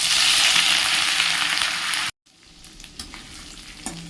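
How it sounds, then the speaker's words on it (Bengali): Dry chillies, whole cumin and bay leaf hit hot oil with a loud, dense sizzle that cuts off abruptly, then quieter crackling and a few light clinks follow. "তরকারির তেল গরম হয়ে গেছে ফোড়নে দেব শুকনো লঙ্কা গোটা জিরে তেজপাতা দেব"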